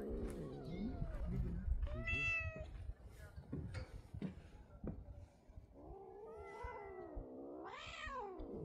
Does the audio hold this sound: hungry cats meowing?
yes